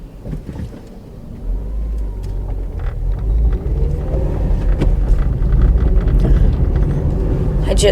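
Road noise inside a moving car, a steady low rumble and engine drone that swells slightly as it accelerates, with faint scattered rattles.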